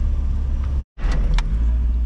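Volkswagen Parati car engine running during a driving lesson in second gear, a steady low rumble close by with a sudden brief dropout in the middle, then resuming with a couple of light clicks.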